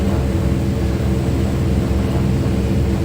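Twin Otter turboprop engines throttle up in Microsoft Flight Simulator 2020, a steady, loud, dense engine roar with a low drone throughout.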